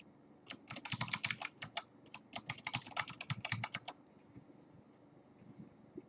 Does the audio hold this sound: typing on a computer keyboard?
yes